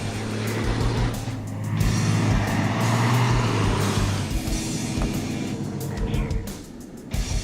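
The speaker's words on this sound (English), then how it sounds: "Lane is number 1 for takeoff behind the semi." A race car launching off the line behind a semi truck at the Pikes Peak hill climb, its loud engine roaring and revving through changing pitch, with brief gaps, close and dominant throughout.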